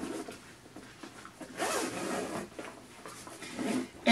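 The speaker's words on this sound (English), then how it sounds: "So this back compartment zips." A zipper pulled along the back compartment of a Sand N Shore thermal tote bag, a steady close rasp with a couple of longer pulls and scrapes, no talking.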